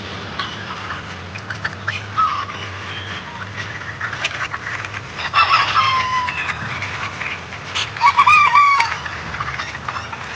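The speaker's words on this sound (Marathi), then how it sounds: "तो आपण आता त्या कोंबड्या सगळ्या बाहेर येतात त्या बघूया" Free-range country chickens spill out of a coop on a farm of about 3,000 birds, with many hens clucking and a rooster crowing amid a busy flock chorus, louder bursts rising midway and near the end.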